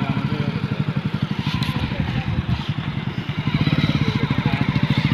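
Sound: Sonalika tractor engine running while being driven

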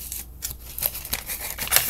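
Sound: cutting with small scissors

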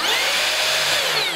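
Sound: Makita 40V XGT circular saw soft start and brake

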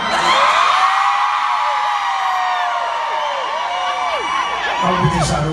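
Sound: women in reggae concert crowd screaming

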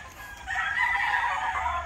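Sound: chickens clucking and rooster crowing on a farm

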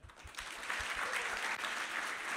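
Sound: audience applause

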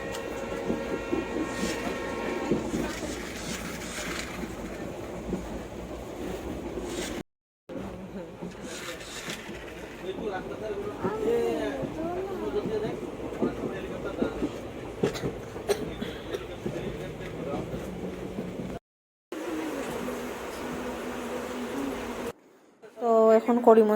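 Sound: train moving along the tracks

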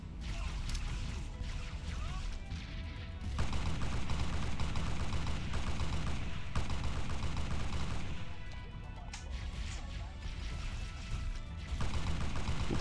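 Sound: weapon firing in Halo SPV3 video game

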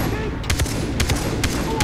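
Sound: gunshots in video game Far Cry 3

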